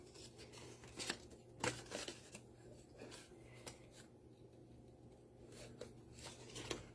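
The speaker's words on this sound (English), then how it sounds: "I'm just going to take my scissors and fussy cut this around the edge like that" Scissors snip paper, fussy cutting around the edge of a craft piece in a series of faint, close, irregular cuts with quiet rustling between them.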